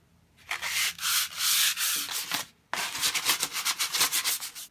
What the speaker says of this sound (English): use the sandpaper you have to smooth out any rough edges